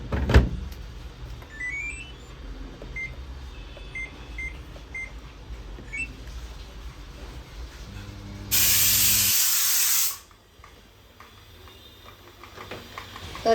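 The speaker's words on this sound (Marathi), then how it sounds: "आणि आता इथे मी कुकर लावून घेतलेला आहे" A pressure cooker cooking rice lets out one loud, sharp burst of hissing steam lasting about a second and a half. Quiet kitchen noise and a few soft electronic beeps come before it, and a low hum follows.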